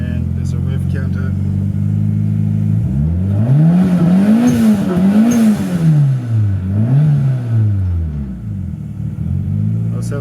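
A turbocharged 4AGTE engine in a 1984 Toyota Starlet KP61 runs loud and close, idling with a low drone and then swelling through several rising and falling revs before settling back; a voice talks over it.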